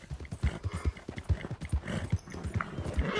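A horse's hooves clip-clop in a quick, regular rhythm in the Western video game Red Dead Redemption 2, close and clear with light surrounding game sound and no voices.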